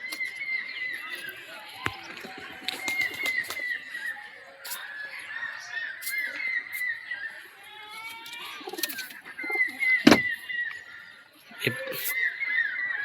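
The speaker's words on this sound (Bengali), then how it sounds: "এটু কিছু পায়রা আছে" Pigeons in a loft, soft throaty coos and bird calls scattered across the clip, with scuffs and flutters and faint voices in the background.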